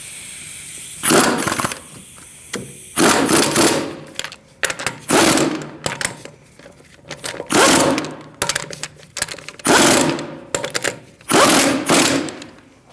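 Impact wrench or ratchet bursts snugging the wheel bolts on a 2008-2014 Mercedes-Benz C300 in a star pattern after a rear wheel bearing and hub replacement, six or seven loud rattling bursts separated by short pauses, close by with no talk.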